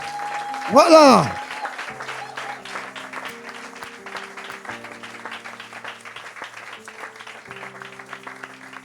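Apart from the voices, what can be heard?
audience applause at a Bible convention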